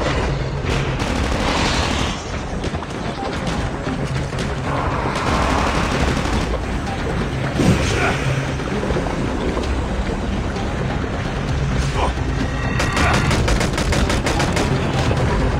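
Repeated pistol gunfire from a multiplayer shooter game, sharp shots scattered through a loud, dense mix of game noise and background sound, with no talking.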